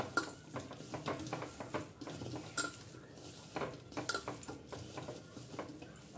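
Pakora batter of egg and leafy greens being mixed by hand in a metal bowl with a splash of water, making close, rhythmic squelching and clinking scrapes that run continuously with no talk.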